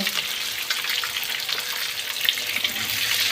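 Potatoes and raw banana pieces frying in hot oil, a steady, dense, loud sizzle that carries on without a break, close up.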